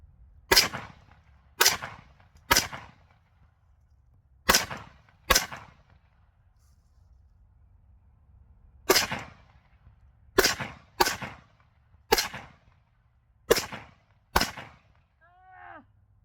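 An AK rifle fires at targets outdoors: about eleven loud, close single shots in irregular groups, each a sharp crack with a short decaying tail, separated by quiet pauses.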